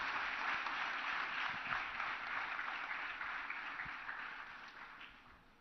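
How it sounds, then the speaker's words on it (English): Steady applause from a crowd at a school event during a visit by the President of India, continuous dense clapping that slowly fades toward the end. "Now a big applause."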